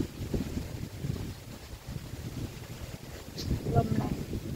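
Strong wind buffets the microphone outdoors beside a mango tree as seedlings are potted, a steady low rumbling roar that swells toward the end.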